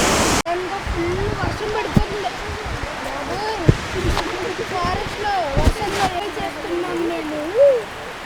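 Bahubali waterfall in Kerala gives a steady broadband rush of falling water through the whole stretch, with people talking over it.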